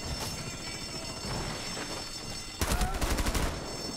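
Gunfire in Rainbow Six Siege: a steady stream of shots that becomes louder and denser partway through as a close burst of rapid fire takes over, with no voices over it.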